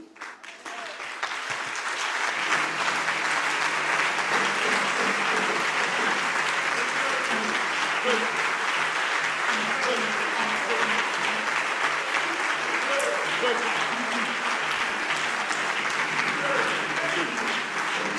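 Church congregation applauding together at a Sunday service, a dense steady wash of clapping that swells in after the first couple of seconds and holds loud and sustained to the end.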